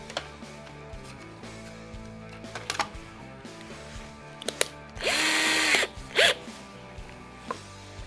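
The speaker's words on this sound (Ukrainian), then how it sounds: "Тепер до цього об'єкту, об'єкту Б, ми приклеюємо малярну стрічку і наскрізь просверлюємо." A power drill boring through an object covered with masking tape, close and loud, with a sustained whine of about a second, a shorter burst after it, and scattered clicks and handling knocks around them.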